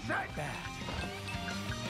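Dog enemies in the video game Xenoblade Chronicles 2 bark and yip over game background sound, while a voice talks over them.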